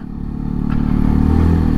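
Engine of a 2022 Segway AT6 SX 570 ATV revving up, a mid-pitched drone that builds steadily in loudness over under two seconds, close and continuous with a faint clatter.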